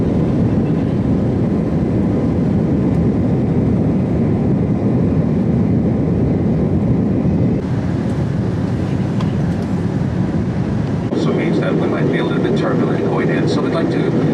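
Steady loud roar of a passenger airplane cabin before landing on a flight to Hawaii, a constant broadband engine and air rush filling the scene, with people talking over it.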